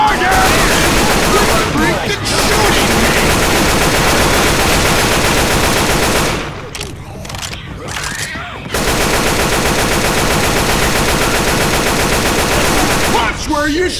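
Sustained automatic gunfire in Left 4 Dead 2, loud dense bursts running almost nonstop, with a brief lull midway before firing resumes, and players' voices shouting beneath the shots.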